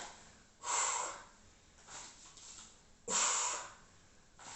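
Forceful exhales during a workout, two strong breathy blasts about two seconds apart, close and fairly loud, with softer breaths between them.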